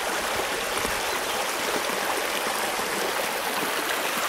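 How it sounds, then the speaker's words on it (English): A mountain creek runs beside a backcountry campsite, its steady broadband rush of flowing water constant and fairly close, with no voices over it. "We found our creek"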